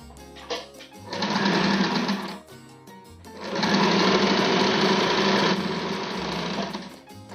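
A sewing machine stitches a fall onto a saree in two close, loud runs: a short burst of about a second and a half, a brief pause, then a longer steady whir lasting about four seconds.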